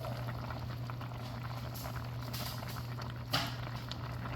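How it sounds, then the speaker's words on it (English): A fish stew with tomato sauce simmers in a pot, a quiet steady bubbling with soft pattering and a brief knock near the end, and no talking. "other than just letting it simmer maybe a little more, and it should be good to go"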